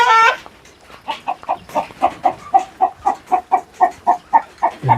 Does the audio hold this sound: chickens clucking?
yes